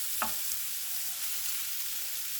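Leeks sizzle steadily in a frying pan while a utensil stirs them, giving a brief scraping knock near the start over a soft continuous hiss.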